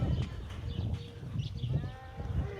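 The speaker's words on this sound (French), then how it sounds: "Eh mais les chèvres ici, elles sont super sympas." Goats bleating at a ranch in Marrakech, several short nasal bleats close by in a cluster, with rustling farmyard noise around them.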